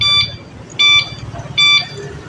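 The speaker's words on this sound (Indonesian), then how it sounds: "Sebelah kiri ini ada tombol lampu, lampu sen." A three-wheeled electric bicycle's turn signal beeps in three evenly spaced, shrill electronic tones about three-quarters of a second apart, loud and close, with a low background murmur between them.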